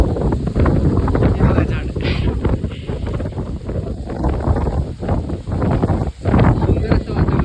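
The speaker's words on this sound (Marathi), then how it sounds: "हे बघा इकडे वारा वगैरे सुटला आहे, पाऊस येणार आहे वाटतं आता." Strong gusting wind blows across the microphone outdoors ahead of coming rain, a loud continuous roar with buffeting rustle, while someone talks over it throughout.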